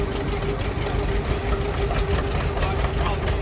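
A John Deere tractor with later model fenders pulling a plow in the Palouse fields, its engine giving a steady mid-pitched thrum with a regular beat, while someone talks over it.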